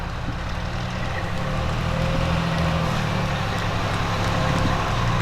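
Fire engines of a volunteer fire department roll past during a Memorial Day parade, producing a steady, loud low engine rumble that holds constant throughout with no voices.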